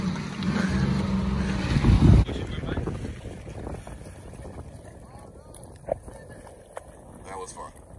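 A Sea-Doo GTS jet ski riding on open water near CoCoCay, with strong wind and engine rush loud at first and then easing off, splashes and voices talking over it.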